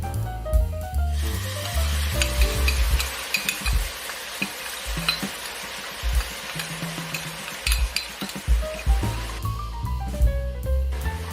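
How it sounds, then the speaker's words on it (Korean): Anchovies stir-fry with seasoning sauce in a pan over medium heat, with a continuous sizzle broken by light scraping and clinking from a utensil against the pan. "양념이 잘 배일 수 있도록 잘 볶아주세요."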